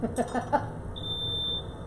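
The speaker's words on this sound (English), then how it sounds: "So I'm going to taste this soup with the fire alarm going." A kitchen smoke alarm sounds while French onion soup cooks, a thin steady high-pitched beep tone holding after a few brief clattering kitchen noises, with faint background murmur.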